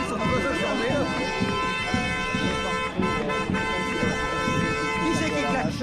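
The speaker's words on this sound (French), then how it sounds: "Qui c'est qui klaxonne?" Car horn tooting at a roadside protest on a roundabout in Besançon, a horn-like tone held over steady crowd noise and traffic, with people talking throughout.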